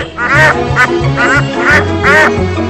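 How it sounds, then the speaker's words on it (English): A duck quacks loudly about five times in a steady rhythm, each quack a raspy, close nasal burst, with no voices. "The duck of the day."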